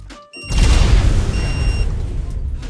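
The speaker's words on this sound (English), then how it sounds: "I always love such big explosions in ARK" A big explosion in the video game ARK during a PvP raid, a loud booming blast that swells quickly and rumbles on with a heavy low roar, with no talk.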